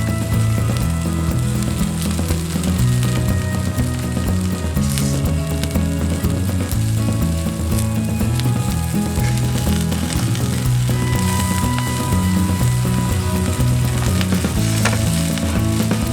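Asparagus topped with butter sizzles and crackles loudly on a hot cast iron grill grate, a dense continuous frying hiss close up with no voices.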